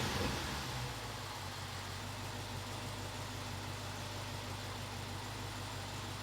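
BMW 550i with an N62 V8 engine idling just after start-up, a steady low hum and drone that stays even and fairly quiet throughout, with no other sounds.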